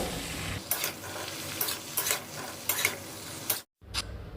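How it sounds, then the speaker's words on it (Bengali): Mixed vegetables for labra are stirred with ginger paste in a frying pan, a continuous sizzle broken by repeated spatula scrapes, with a brief cut to silence near the end. "সমস্ত সবজির সাথে আদা বাটাটা আমি খুব ভালোভাবে মিশিয়ে নিয়েছি"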